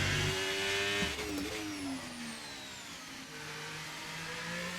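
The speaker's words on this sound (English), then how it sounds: "I can hear the car behind me" An F1 race car engine whining steadily in a driving video game, with a rival car's rising and falling pitch blending in close behind, sustained and fairly faint.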